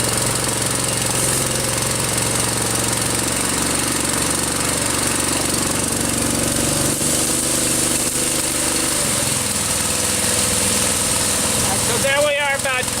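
A HighCountry agricultural spray system switched on and running, giving a loud, steady engine-like drone with a constant mechanical rumble that continues throughout, with a brief higher whine near the end.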